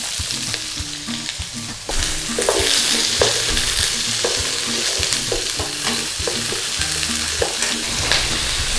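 Onions hit hot oil in a pan and fry with a steady sizzle, louder after they go in, while a utensil stirs and scrapes in irregular knocks close by.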